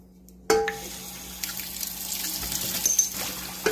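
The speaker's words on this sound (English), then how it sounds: "I've got water running" Kitchen tap water starts suddenly and runs into an iron skillet just used for frying potatoes, a steady close splashing and trickling with a few clinks of metal.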